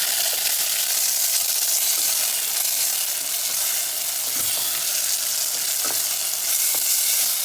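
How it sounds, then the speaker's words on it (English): Tomatoes and garlic sauté in olive oil for a Moroccan zaalouk, giving a loud, close, unbroken hissing sizzle with a few faint stirring knocks beneath it. "We just wait for the tomatoes to saute a little bit more."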